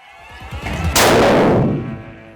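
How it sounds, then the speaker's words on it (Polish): A black powder musket loaded with about 8 grams of powder fires once up close, a sharp loud blast with a long rumbling decay, after a brief low rustling. "Łyżka prochu teraz eksplodowała, czyli około 8 gramów"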